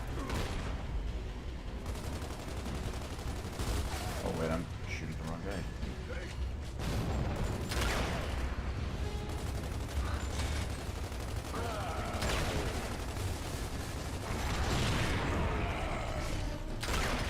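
Gears of War 2 combat fills the air with repeated bursts of gunfire, mechanical clanks and explosive booms, dense and loud throughout, while a voice talks over the action.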